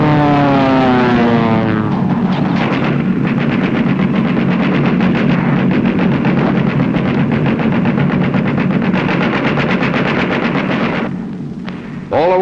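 B-17 Flying Fortress bombers pass overhead in tight formation on a bombing run, a loud continuous roar of propeller engines with a steady rumbling drone and rhythmic pulsing, fading slightly near the end.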